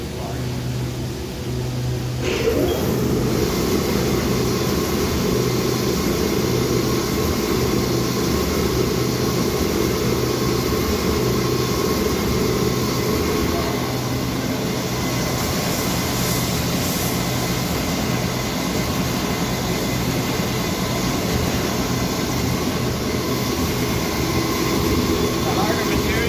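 A DM1100C deburring machine runs steadily while processing an 18 gauge, 1.2 mm plasma-cut part with some dross, giving a continuous loud mechanical hum and grind with a sharp onset near the start.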